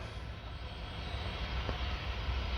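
A Boeing 787 Dreamliner passenger jet climbing off runway 08 at Paris Orly airport, heard as a steady, broad roar of jet engine noise from a distance, sustained and even throughout.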